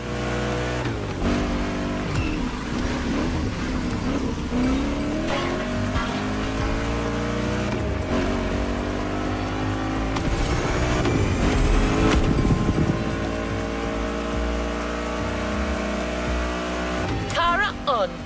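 Japanese race cars from The Crew driving hard, engines revving and climbing through gears with passing roars and brief tire noise, loud and continuous under game music and a narrator's voice.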